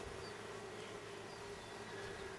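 Mountain Grey Caucasian honeybees buzz steadily during a hive inspection on a warm day, a faint continuous hum with individual bees passing close now and then.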